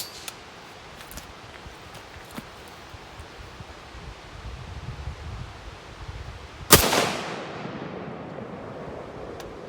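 A single loud, sharp L1A1 rifle shot rings out near the end, standing alone above steady outdoor background noise and trailing into a brief decaying echo.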